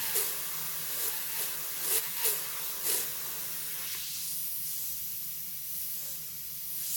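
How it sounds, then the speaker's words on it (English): Steady airbrush hiss sprays paint onto tracing paper continuously, with a few short pulses of louder spraying early on before settling into an even stream. "as I come up here and spray off this, piece of tracing paper"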